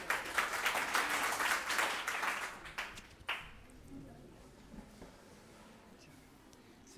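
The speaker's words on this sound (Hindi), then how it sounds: "ताली बजाइए।" Students clap for a few seconds at a Teacher's Day celebration in a school hall, a dense burst of applause that fades after about three seconds into quieter room noise with a few scattered claps.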